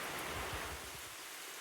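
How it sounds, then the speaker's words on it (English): Steady rain falls on a cold, breezy early-summer day in West Virginia, a dense, even hiss lasting about a second and a half with no voices. "so I thought I would capture this beautiful rain"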